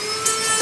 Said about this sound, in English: I'll try and get the Dremel in there just a little bit.